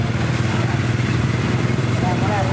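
Motorcycles idle and rumble in stopped traffic on a crowded Jakarta street near the Old Town and Chinatown. A steady engine din carries on throughout, with people talking nearby.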